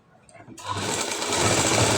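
A sewing machine starts up and runs steadily while stitching a high neck blouse, close and continuous after a quiet start, with a voice speaking faintly underneath.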